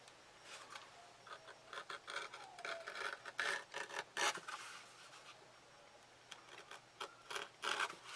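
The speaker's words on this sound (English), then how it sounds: "now I'm just going to take my edge beveler here and bevel the edges" An edge beveler scrapes along the edges of a leather knife sheath in repeated short strokes, a close, dry rasping rhythm with brief pauses between passes.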